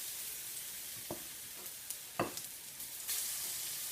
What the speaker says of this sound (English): Kind of like frying these puppies up. We're gonna fry them up